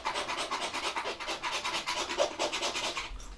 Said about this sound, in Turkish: O yüzden biz su kabaklarını yeşilken bu şekilde soyma işlemi yapıyoruz.